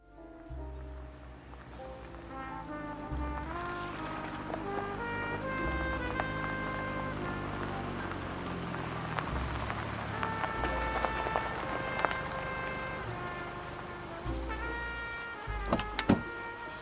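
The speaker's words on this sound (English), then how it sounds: "the pitter-patter of rain fills the air" Steady rain patters softly beneath a sustained orchestral score, the drizzle texture blending into the music throughout.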